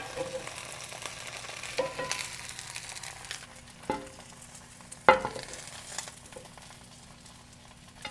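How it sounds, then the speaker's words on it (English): Romaine lettuce sears cut-side down on a hot skillet with a steady low sizzle, broken by a few sharp clanks and bumps of the lettuce being pressed and moved; no talking. "apply pressure because you want to sear where you're placing the lettuce on the skillet"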